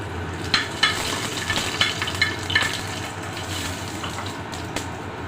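Garlic and two dried red chillies fry in oil in a pan, a steady sizzle broken by several sharp clicks from a spatula stirring.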